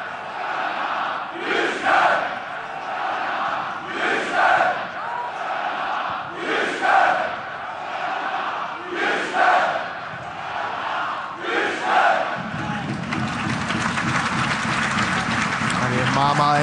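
A football stadium crowd in Denmark chanting in rhythmic surges, loud swells of massed voices repeating every couple of seconds, then a sustained roar of cheering, heard from a distance.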